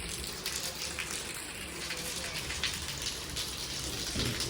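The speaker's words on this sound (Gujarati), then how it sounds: "તમને બતાવું બહાર વરસાદ કેટલો બધો પડે" Heavy rain pours outside in a village, a dense, continuous hiss of drops pattering on surfaces with occasional louder splashes, steady throughout.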